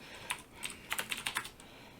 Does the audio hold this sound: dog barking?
no